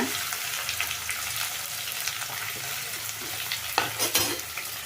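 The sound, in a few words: frying onion, garlic and green chillies in oil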